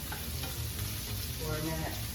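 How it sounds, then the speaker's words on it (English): Peppers and onions sauté in a hot pan, giving a soft, steady sizzle with occasional stirring scrapes, fairly quiet and close. "Now that our peppers and onions have sauteed"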